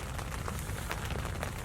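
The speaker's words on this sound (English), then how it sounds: "Well, there you go, folks. The rain's here." Steady rain falls outdoors during a deer hunt, a dense, even hiss of drops with no pauses or voices over the short stretch.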